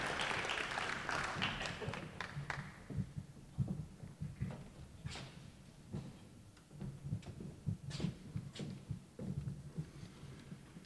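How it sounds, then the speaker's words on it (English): Audience applause at a Jobs for Kentucky Graduates event at The Academy @ Shawnee welcomes a speaker. A quiet, distant wash of clapping fades into scattered single claps and soft thumps. "let's please give him a round of applause"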